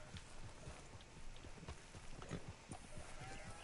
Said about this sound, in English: there's perfect cows here.